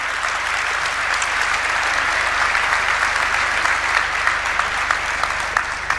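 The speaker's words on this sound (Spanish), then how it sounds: "Un fuerte aplauso para el doctor Ricardo Arriazu." Loud, strong applause from a large audience for an economist speaker, a thick continuous roar of clapping that holds steady throughout with no talk on top.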